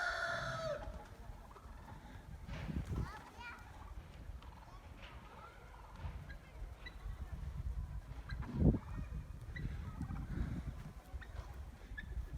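Chickens cluck and a rooster crows amid a busy outdoor yard, with a voice talking intermittently over the birds.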